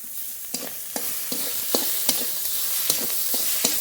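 A spice paste is sautéed in a pan for a Bengali dish, giving a steady bright sizzle punctuated by regular sharp scrapes and taps of a spatula stirring, close and clear with no voices.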